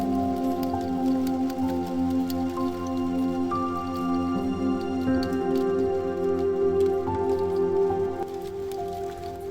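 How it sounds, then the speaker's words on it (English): Rain from the remnants of Storm Dave falling on the Leeds and Liverpool Canal, a steady dense patter with scattered drips over a continuous low background hum, with no voices. "Being involved in these storms and the rain is bloody annoying."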